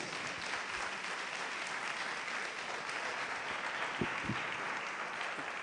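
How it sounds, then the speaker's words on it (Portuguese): Congregation applauding the Lord Jesus at a Portuguese-language church service, a steady wash of many hands clapping throughout, fairly quiet and distant, with no voices over it. "Vamos dar uma salva de palmas ao Senhor Jesus,"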